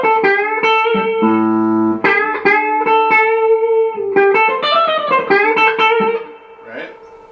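An electric guitar plays a minor pentatonic lick in A: quick single notes with bends and slides, fairly clean and close, then fading to softer notes at the end.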